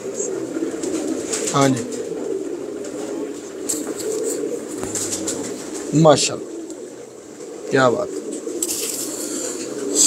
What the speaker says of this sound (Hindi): ये कबूतर आपको दिखा रहे थे